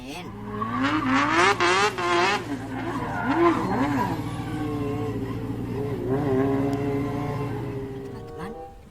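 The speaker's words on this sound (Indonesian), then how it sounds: "Wadidaw, yang ini apa teman-teman? Ada mobil balap." A toy race car plays electronic sound effects: a loud, wavering engine whine rising and falling, with squealing skid-like tones layered over it, close and continuous for several seconds.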